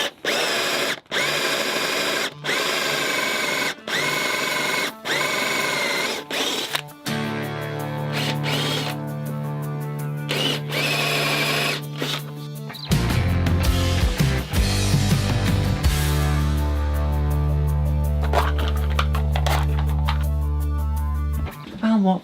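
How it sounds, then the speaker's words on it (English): Power tool cutting a channel for a bolt head in wood, a loud buzzing motor that starts and stops in short bursts, then runs in longer steady whining passes with changing pitch. "we're just going to cut out for our. Yeah"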